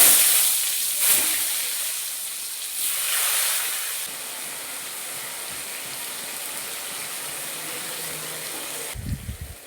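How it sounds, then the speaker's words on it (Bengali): Eggplant pieces fry in hot oil in a pan in a home kitchen, a loud, close, steady hiss of sizzling that fades slightly and then ends with a low clunk. "তেল গরম হয়ে গেছে, আমি বেগুনগুলো ভেজে দিচ্ছি।"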